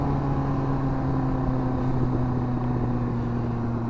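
A Yamaha R1 sport motorcycle rides a steady loop, its engine holding a constant low droning note with a harmonic hum over rushing wind noise, loud and close throughout with no talking.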